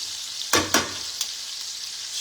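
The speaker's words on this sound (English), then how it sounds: "we have olive oil, a little butter, salt, pepper, and some garlic in the pan" Chicken fries in a pan of olive oil, butter and garlic, giving a soft continuous sizzle with two sharp scraping stir sounds close together near the start and a lighter one a moment later.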